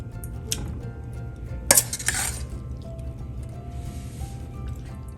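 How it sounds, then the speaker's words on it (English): Crushed pineapple drops into a small kitchen pot with a soft wet squish, followed by metal clinks and scrapes of a utensil against the pot, all fairly quiet. "You will take a small pot and add in the pineapple"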